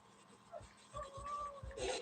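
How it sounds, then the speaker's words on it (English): A puppy whimpers in short high whines that rise into a longer thin cry, quiet and close, with soft breathing and rustling under it. "Why are you crying, baby? Quit crying, puppy."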